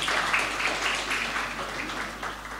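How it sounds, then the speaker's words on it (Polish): An audience at a business congress applauds the guests, a soft, steady patter of many hands clapping in a hall that fades slightly toward the end. "Brawa dla naszych gości."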